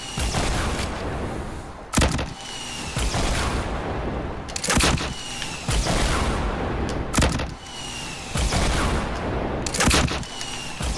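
RPG rocket blasts and gunfire in Fortnite Battle Royale, with loud booming explosions recurring about every two to three seconds over a steady bed of rattling shots and battle noise.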